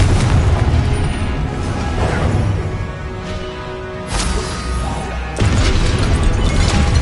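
A Confringo fire spell detonates in the Hogwarts Legacy video game, a loud continuous blast-filled wash of booms and crashes with sharp bursts near the start, middle and later, dense and close with no talking.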